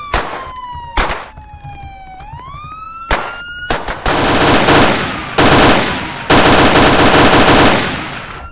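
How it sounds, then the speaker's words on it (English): Rapid automatic gunfire in the police video game PoliceSim NYC, loud bursts breaking in over a wailing siren that rises and falls, the shooting thickening into long sustained volleys, with no talking. "Alright, shots fired."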